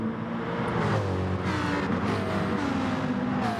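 Race cars including a McLaren and a Lamborghini in GT Sport at Interlagos, Brazil, roar steadily past in a dense pack, engine tones rising and falling through shifts, loud and continuous with no voices.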